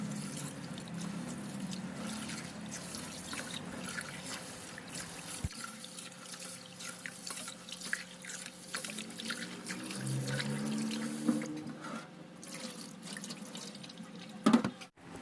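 Sticky rice is washed in water, with a steady running and swishing wash, light drips and trickles, and a sharper splash or knock near the end, close and moderately loud.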